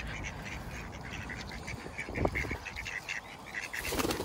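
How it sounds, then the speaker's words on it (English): Ducks, including a small brown one, quacking and calling close by while being hand-fed, with a steady outdoor murmur behind them and a sharper burst of calls midway. "look at that little brown duck"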